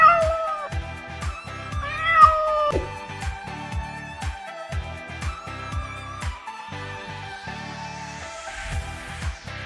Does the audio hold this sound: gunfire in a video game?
no